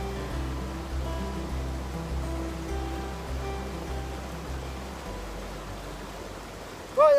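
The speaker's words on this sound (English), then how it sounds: "I followed the river down to the weir, and as you can hear and see, there's still a fair drop of water coming down over." River water pours over a weir in a steady broadband rush with a low hum beneath, continuous and moderately distant, no voices.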